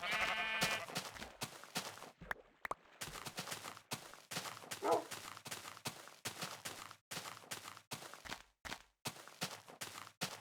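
Sheep bleating in the Minecraft video game, several short bleats scattered among clicks and brief bursts of game sound, fairly close and clear, with no talk over them.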